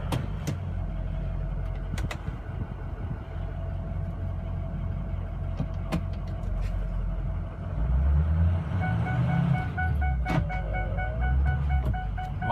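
A 2006 Ford F350 pickup truck driving in four-wheel high, its engine a steady low rumble with scattered clicks and knocks, rising in load toward the end, heard from inside with no speech.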